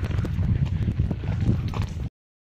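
Horse trotting on concrete, a steady run of close, loud clip-clop hoofbeats carrying on for about two seconds before stopping abruptly.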